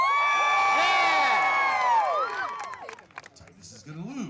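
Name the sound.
audience cheering for gladiator champion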